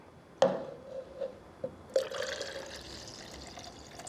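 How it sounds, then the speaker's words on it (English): Water poured into a cup while making lemonade, heard as a few soft splashes and a steady thin trickle, close and fairly quiet with no talk over it. "And just pour water until you get the yellow that you like your lemonade to be."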